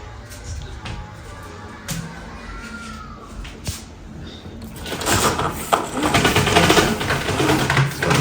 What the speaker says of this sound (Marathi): खाली करते शटर मी